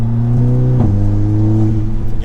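A car fitted with a Pedal Commander throttle controller revving as it accelerates from the cabin, a loud steady engine drone whose pitch dips and climbs once as a gear changes.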